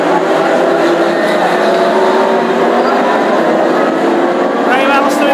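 Classic hot rod race cars in a heat at Hednesford sound as a loud, continuous engine roar, with an announcer's commentary running over it throughout.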